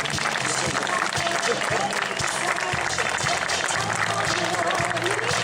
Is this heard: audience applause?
yes